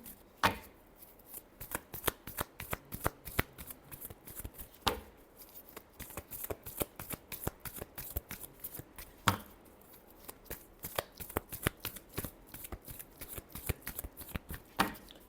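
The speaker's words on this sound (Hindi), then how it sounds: "Last shuffle." A deck of playing cards is shuffled repeatedly during a tarot reading, rapid riffling bursts and crisp slaps in quick uneven runs, close and clear, with no talking.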